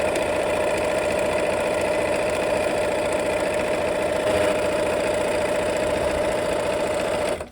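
An electric sewing machine stitches a quarter-inch quilting seam along a drawn diagonal line in peach fabric, running at a steady, even hum with a fast mechanical chatter throughout and stopping abruptly at the end.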